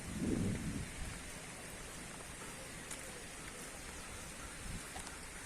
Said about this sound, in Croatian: Kiša, nikakav problem.